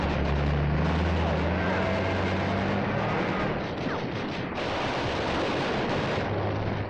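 Heavy machine gun fire in the 1943 Battle of Tarawa during a Marine attack on an airfield. It forms a loud, dense, unbroken roar of battle noise that fills the whole stretch.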